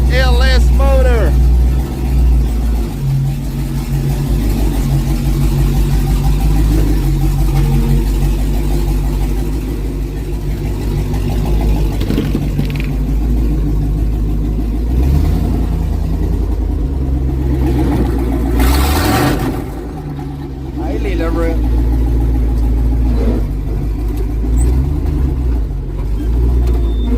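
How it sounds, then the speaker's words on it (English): An LS V8 engine roars loudly, heard from inside a shipping container, with a steady heavy rumble and occasional revs throughout and someone talking over it. "It is so loud inside of a container with a LS motor."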